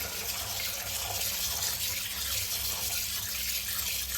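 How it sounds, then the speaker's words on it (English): Water runs steadily from a kitchen tap while rice is rinsed, a continuous splashing rush that stays even throughout with no talk. "So I'm gonna wash out this rice."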